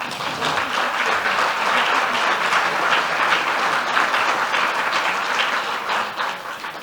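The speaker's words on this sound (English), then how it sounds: "another round of applause for them, please" A conference audience gives sustained applause for a panel, steady dense clapping from many hands at full strength throughout with no letup.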